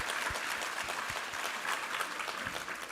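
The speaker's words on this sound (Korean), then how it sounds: "우리 하나님께 감사와 영광의 박수 올려드리겠습니다." A church congregation at a Sunday worship service applauds in sustained, moderately loud clapping that fills the room without voices.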